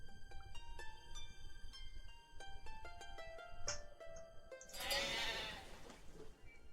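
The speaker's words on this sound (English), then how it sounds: "So there's the sheep." Sheep bleating in the village-building video game Life Is Feudal: Forest Village, with a couple of plaintive bleats over soft in-game music and a brief rustling burst near the end.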